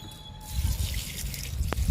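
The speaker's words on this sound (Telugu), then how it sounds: "జామ మొక్కకి వాటర్ ఇచ్చేద్దాము" Water poured from a container into a can of fruit peels set at the base of a potted guava plant, a soft trickling and dripping that builds after a quiet start, with one brief sharp tap near the end.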